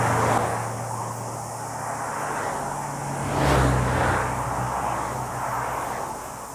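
Road traffic rushes past a cyclist on a narrow New Zealand hill road with no shoulder, a broad roar of passing vehicles swelling near the middle over constant wind noise.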